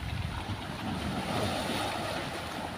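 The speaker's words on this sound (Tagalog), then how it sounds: "Nalaki pa ng alon." Sea waves surge and wash against the shore on a rough, windy day, a faint, continuous rushing with some wind noise from the microphone and no speech.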